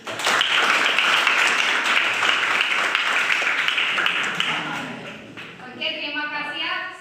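A classroom of students applauds together, a dense burst of loud clapping that gradually thins out, with voices rising and talking as it fades.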